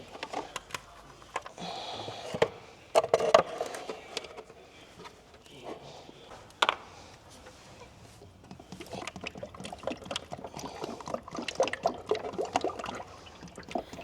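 Motor oil is poured into a Ford Bronco's engine, giving intermittent glugging and trickling bursts with pauses and small clinks, close by and without speech.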